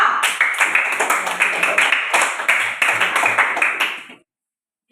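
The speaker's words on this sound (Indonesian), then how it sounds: "Tepuk tangan buat kelompok 2" A small group claps for Group 2 after a Pancasila quiz: close, loud hand claps in a quick, slightly uneven rhythm with brief pauses, stopping abruptly near the end before silence.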